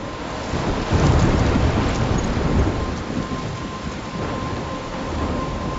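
A heavy thunderstorm rages in Life is Strange, dense rain pouring steadily with deep rolling thunder swelling and fading, loud and close, with no voices.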